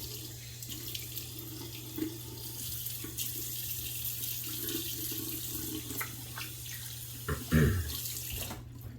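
Lather being rinsed out of a stainless steel or bronze safety razor under a running tap, a steady close hiss of water into a sink with a brief splashing burst near the end.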